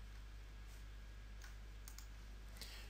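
A computer mouse clicks while points are picked in ReCap 360 laser-scan software, producing three or four soft, brief clicks spaced apart against a constant electrical hum and hiss.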